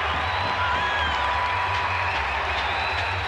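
Cricket crowd in a Caribbean ground cheering and applauding after a boundary four, a dense, steady wash of clapping and voices spread wide across the stands at moderate distance.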